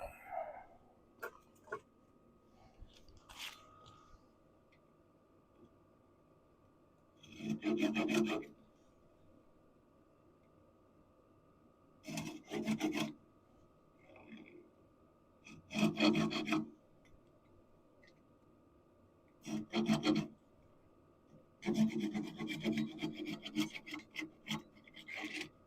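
Coarse-grit sandpaper rasps against a turned wooden piece on a lathe in short, separated bursts of scratchy rubbing, close and moderately loud, with quiet gaps and a low steady hum between strokes.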